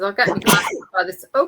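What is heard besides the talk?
sneeze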